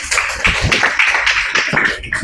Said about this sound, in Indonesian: ya tepuk tangan buat Alia